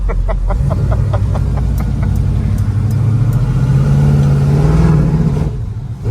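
A 1971 Chevelle with a 502 big block V8 revs from inside the car, deep rumbling engine note rising in pitch and holding high before dropping off near the end, loud and close.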